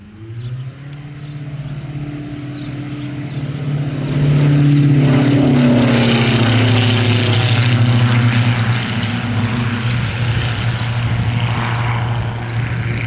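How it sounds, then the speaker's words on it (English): A propeller airplane comes in to land at a closed airfield, its engine drone growing louder and nearer before holding a steady, strong tone as it passes close by. "He's landing. The airfield is closed."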